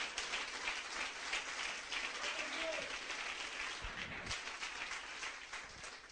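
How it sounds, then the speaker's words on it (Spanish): Congregation applauding during an afternoon church sermon, a fairly faint, distant, sustained patter of clapping across the whole stretch with a voice briefly audible mid-way. "Dele ese aplauso al Señor en esta tarde"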